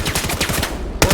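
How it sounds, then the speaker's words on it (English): Rapid automatic gunfire from a competitive tactical shooter match fires in a dense, loud burst of evenly spaced shots, then a sharp louder blast lands near the end. "Neuro blindly firing in the smoke"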